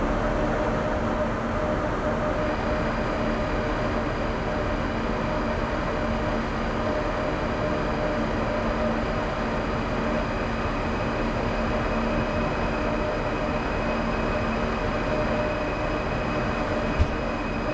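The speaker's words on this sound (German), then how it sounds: "Fahrmotorlüfter ein und auf geht's." A BR 401 high-speed train in Train Sim World 4 departs with its traction motor fans running, making a loud, steady, unbroken mechanical drone with a faint hum layered over it throughout.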